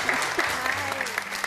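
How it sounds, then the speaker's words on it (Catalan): Brief applause from a small TV studio crew and camera operators with no audience present, steady clapping across the whole moment with a voice speaking over it. "Un aplaudiment, gràcies."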